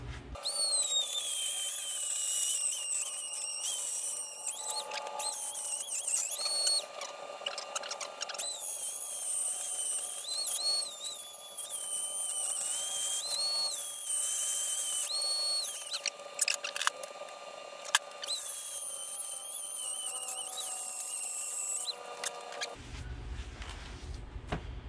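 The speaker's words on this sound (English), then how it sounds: "That's how you cut it off with the Dremel" A Dremel rotary tool cuts across a board for a custom door panel on a 4th-generation Camaro, giving a loud, sustained high-pitched whine that wavers as the cut proceeds and then stops abruptly near the end.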